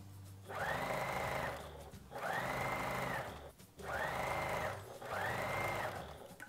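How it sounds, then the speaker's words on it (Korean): Sewing machine stitching the elastic side seam of winter pajamas, four close bursts of steady whirring stitching, each about a second long and separated by short pauses. "고무를 당기시면서 봉제하시면 돼요."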